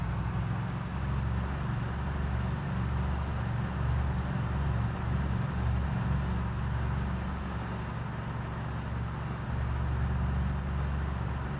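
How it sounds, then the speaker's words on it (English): A loud car rumbles steadily along a road in a zombie survival game, its low engine drone constant and close for the whole stretch, with no voices over it. "Take a nice little drive down Moldra in our loud car"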